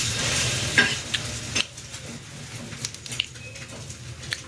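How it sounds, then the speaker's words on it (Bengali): An egg frying in a pan crackles with a steady close sizzle, broken by a few sharp clinks and scrapes of stirring. "এখন এই ডিমটা ভাজছি"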